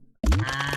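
A short sheep bleat from a video game sounds once, sudden and close after a moment of quiet.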